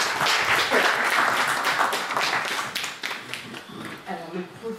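A conference audience applauds after a speaker. The clapping is dense and fairly close, fades after a few seconds, and a voice begins talking as it dies down.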